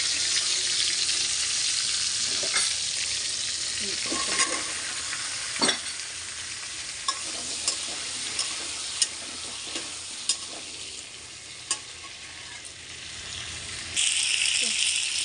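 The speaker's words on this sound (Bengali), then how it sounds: "আর আমি যে কড়াইয়ের মধ্যে তেলের মধ্যে আমি মরিচ দিয়ে দিয়েছি" Chilies sizzle in hot oil in a wok where fish was just fried, a steady bright crackle with intermittent sharp spatters and scraping stirs, close and continuous with no talking.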